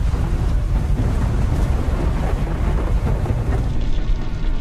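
Storm rumble and roaring wind noise engulf an aircraft in flight during a thunderstorm, a steady loud low-heavy roar with no distinct breaks.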